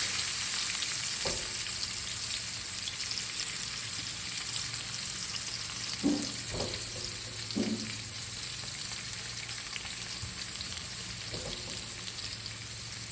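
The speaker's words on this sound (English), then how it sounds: "we're just gonna get a nice golden brown type of sear on the flesh of these potatoes" Potato halves sear flesh-side down in a hot pan with a steady, close sizzle and crackle. A few soft knocks and scrapes sound as they are shifted, and no one speaks.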